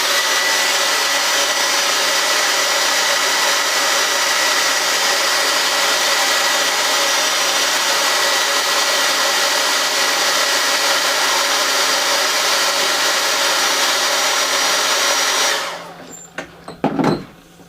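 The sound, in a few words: hair dryer drying paint on a painted piece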